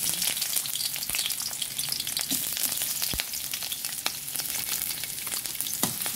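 Onion sizzling steadily in hot olive oil in a pan for Filipino ginisang ampalaya, a continuous crackling fry with occasional sharper pops and stirring clicks, close and alone with no talk.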